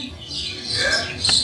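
Birds squawk and chirp in brief, shrill calls, with a louder burst near the end of the short stretch.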